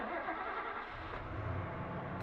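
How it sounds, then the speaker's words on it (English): A truck engine revs outside in the video game 428 Shibuya Scramble, a steady, dense rumble that holds at an even loudness for the whole stretch with no talk over it. "I hear the sound of an engine revving outside."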